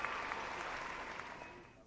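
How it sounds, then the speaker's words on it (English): Audience applause at a gymnastics World Cup final, a faint, steady wash of distant clapping that continues evenly and fades slightly at the end. "She's applauding."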